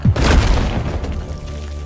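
In the video game Deep Rock Galactic, an explosive charge sets off one loud, close boom with a heavy low thud that rumbles and fades over about a second and a half.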